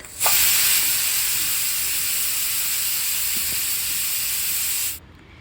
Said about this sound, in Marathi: कुकरचं झाकण लावायचं आहे आणि फुल फ्लेमवरती 1 शिट्टी आणि एकदम लो फ्लेमवरती आपल्याला 1 शिट्टी, अशा 2 शिट्ट्या ह्याच्या काढून घ्यायच्या आहेत